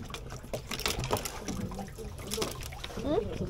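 Water splashes and trickles over fishing tackle on a boat off Pulau Shanghai, Sandakan, rinsing away salt water; uneven pours and drips come and go while people talk nearby.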